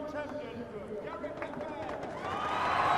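A crowd at the Hockenheim DTM 2018 season-finale race swells into a broad roar as the championship is won, building steadily louder toward the end over steady trackside noise.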